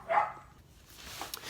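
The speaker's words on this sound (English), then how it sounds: "Let me see if I can get these dogs to quiet down." Dogs bark at a distance, one faint muffled bark at the start followed by softer, scattered yips over a low background rumble.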